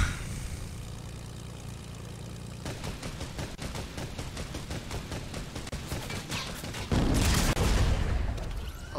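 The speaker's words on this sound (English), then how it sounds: "Oh, the explosion!" In a Fortnite match, rapid gunfire crackles in dense bursts before a loud, broadband explosion erupts near the end and holds for a moment.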